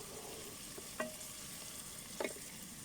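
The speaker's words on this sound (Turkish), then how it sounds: "Şöyle salçamın kokusu çıkana kadar iyice kavuracağım." Gentle sizzling of tomato paste frying in a pan, with a couple of soft scraping stirs standing out against the low hiss.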